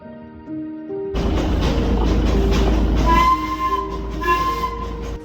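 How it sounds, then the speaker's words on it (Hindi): An old hill railway train in the Darjeeling hills sounds its whistle in long sustained tones over the loud rumble and clatter of the moving train, with no voices. "यहाँ पहाड़ों के बीच पुराने रेल की सीटी दिल के सबसे खामोश कोने को भी जगा देती है।"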